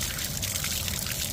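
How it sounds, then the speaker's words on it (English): Water trickling and splashing inside a leaking fishing boat's bottom, a brief, fairly loud, close hissy dribble with no talking. "Oh, yeah, there's some water in there."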